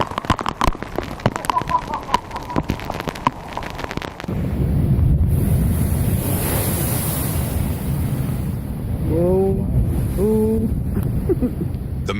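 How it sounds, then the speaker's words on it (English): Massive ocean waves crash in a loud, continuous roar, with heavy wind buffeting the microphone, sharp crackling beforehand and faint voices breaking through near the end. "Look at 3 waves coming at us."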